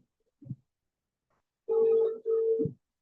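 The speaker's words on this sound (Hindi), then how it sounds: "क्या आपको फोन का स्पीकर का आवाज आ रहा है?" A phone call heard over a speakerphone: a short thump, then two long, buzzy ringing tones from the phone's speaker, close and fairly loud, separated by a brief gap.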